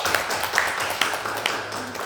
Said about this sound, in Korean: 우리 박수로 한번 축하합니다